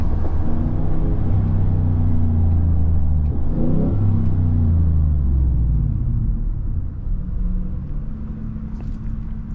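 A loud Ford F-150 Raptor pickup engine rumbles steadily up close, revving and easing off, with a few faint crackling pops from a modified exhaust.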